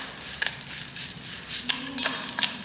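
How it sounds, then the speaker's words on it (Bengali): A spoon scrapes and clinks against a pot while sugar is stirred into an okra mixture, a few short scraping strokes standing out over a quiet background. "তো চিনিটাকে আমি ভেন্ডির সাথে ভালো করে মিশিয়ে নেব।"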